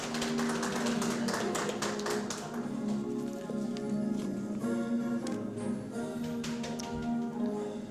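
At a Korean health-care technicians' day ceremony, the audience claps with rapid, dense claps over a soft background of held musical tones, moderately loud throughout.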